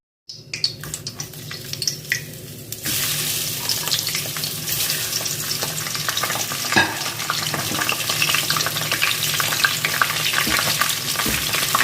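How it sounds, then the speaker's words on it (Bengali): Prawns fry in hot oil for a prawn malai curry, a steady loud sizzle that jumps up after a short quieter start and holds, with occasional stirring clicks and no voices. "এবার আমি চিংড়ি মাছগুলো এই তেলে একটুখানি ভেজে নেবো"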